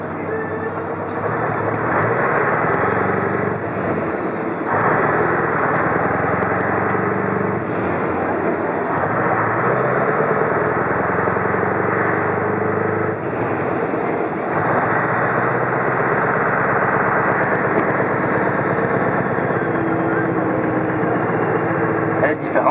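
A Scania 143H V8 500 truck engine runs throughout with a steady, deep drone, its pitch and load shifting a few times as if through gear changes, heard from inside with some talk.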